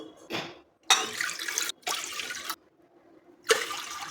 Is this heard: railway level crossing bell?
no